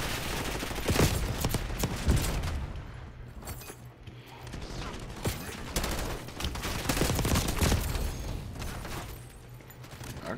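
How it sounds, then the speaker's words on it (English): Shotgun fire in a shooter video game: loud, repeated blasts and mechanical reloading clatter spread throughout, dense and continuous with game effects and little audible talk. "these bitches with these shotguns are crazy"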